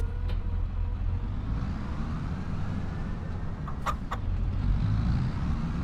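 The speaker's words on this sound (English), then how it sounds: "It's a good sounding tractor. The cases always sound good." A Case tractor engine idles in a steady low rumble throughout, with a few faint chicken clucks in the background.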